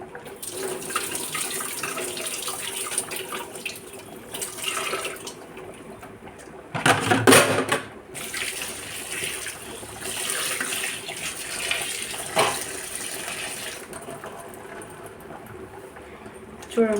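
Tap water runs steadily into a sink as tamarind leaves are washed for a lentil dish, with a few louder splashes, and someone talks over it throughout.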